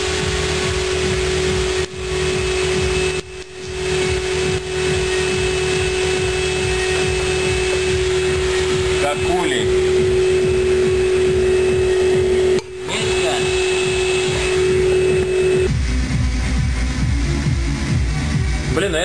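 A levitation induction heater holding copper runs with a loud, steady electrical hum and high whine throughout, under muffled handling noises and a brief dip, with the tone shifting lower near the end.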